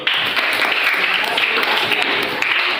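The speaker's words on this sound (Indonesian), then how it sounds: "tepuk tangan untuk David dulu" A classroom of students claps steadily for a classmate, a dense, lively round of applause that fills the room throughout.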